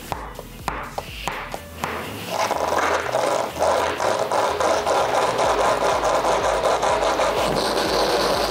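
Fingerboard wheels and bearings rolling across rough concrete, a loud continuous grinding rumble that starts after a few light clicks and taps and then runs steadily near the mic without talk.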